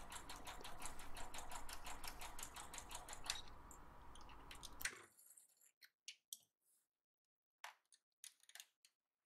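A sewing machine fitted with an overcast presser foot stitches a rolled hem in a fast, even, rapid clatter for about five seconds, then stops abruptly, leaving a few scattered clicks and taps.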